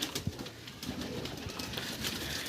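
Pigeons in a new loft, just given bathing water, coo softly and repeatedly nearby over a light background of rustling and movement.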